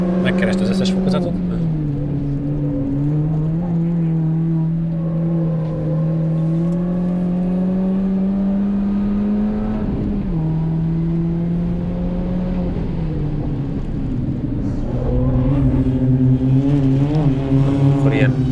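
A car accelerates hard on a race track, its engine note climbing through each gear. A sharp drop marks a shift midway, and the pitch falls again near the end, with the engine loud and close throughout.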